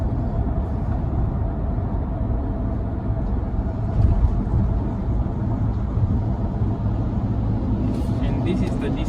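A 2022 Ford Ranger Wildtrak gathers speed on cruise control, its engine a steady, loud low rumble with road noise throughout and no talk.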